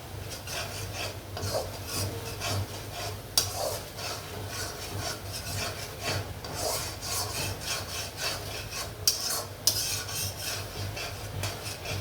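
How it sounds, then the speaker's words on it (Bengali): Stuffed pointed gourd chicken dorma being sautéed in a pan, a steady raspy scraping of a spatula stirring with a soft sizzle underneath, with a couple of sharper knocks against the pan. "এখন কষিয়ে নিই।"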